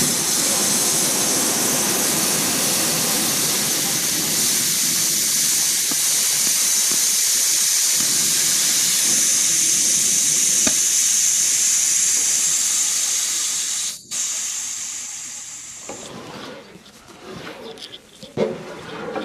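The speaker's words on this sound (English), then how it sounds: "all you need to do is pull this here. That's your safety valve." Compressed air hisses loudly and steadily from the safety valve on a DeWalt D55146 air compressor tank as it is pulled to drain pressure, cutting out briefly near the end before a weaker, ragged hiss trails off.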